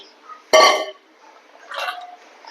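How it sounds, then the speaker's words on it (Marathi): A sharp metallic clatter of raw mango pieces dropped into a steel pot, followed a second later by a softer second clink, with quiet gaps between. "आता स्टीलचा एक कुंडा घेतलेला आहे मी आणि स्टीलच्या कुंड्यात या कैरा टाकून घेते"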